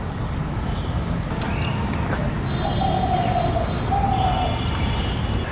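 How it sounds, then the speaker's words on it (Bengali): Birds chirping outdoors at midday, faint high calls and a few drawn-out whistles rising over a steady rushing background. "কত পাখি কিচিরমিচির করতেছে"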